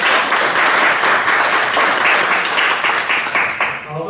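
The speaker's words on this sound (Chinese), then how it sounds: "用我们最热情的掌声欢迎我们的国际超级房仲李昌鹏" An audience applauds loudly and continuously to welcome a real estate agent onto the stage at a presentation, a dense wash of clapping that fades slightly at the end.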